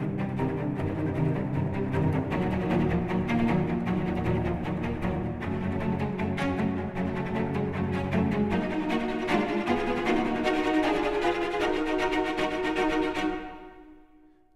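Cello section split into divisi groups, all playing together in a spiccato string library: dense, continuous bouncing short bow strokes forming a full, rich ensemble texture throughout, then a sudden cutoff with a brief ring-out at the end.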